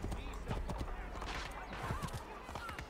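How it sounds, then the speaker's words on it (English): In the Assassin's Creed 3 video game, a called horse gallops up with a rapid, steady clip-clop of hooves and a brief whinny, under a continuous game soundscape. "Let's call my horse real quick, because it seems a little too far."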